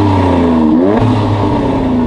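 Close-up AMG Mercedes engine revving loudly with its AMG Performance exhaust open, an open, raspy note, pitch dipping then climbing again in a sustained roar.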